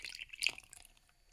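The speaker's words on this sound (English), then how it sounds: "Pour our wet ingredients into dry." Wet ingredients splash briefly into dry ones for pancake batter, a short, close liquid pour with a soft wet burst that quickly fades.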